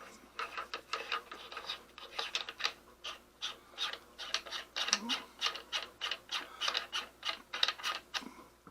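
Threading a part onto a Dynamic Air Rifles Gen3 (Thor) air rifle, a close, rhythmic series of short ratcheting clicks and scraping metal turns, repeated steadily throughout with no talking.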